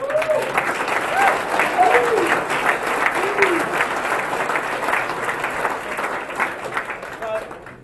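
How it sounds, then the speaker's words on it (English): Round of applause for hack day participants, a room of people clapping steadily at close range, with voices calling out and cheering over it. "So if we just give a round of applause for everyone who did it."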